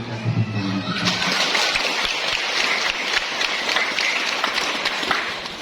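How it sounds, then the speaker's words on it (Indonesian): Congregation applauding after a Catholic wedding ceremony at Stasi Wancang in Paroki Beanio, with sustained, dense clapping that fills the space for several seconds after a brief moment of tonal sound. "kita berikan tepuk tangan"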